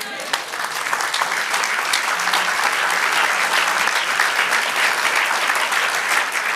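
A congregation at a Spanish-language church service applauding for the Lord, a loud, full, continuous clapping that builds quickly after a brief start and stays steady, with a few voices faintly mixed in.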